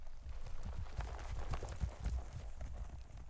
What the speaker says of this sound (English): And the sound of horses.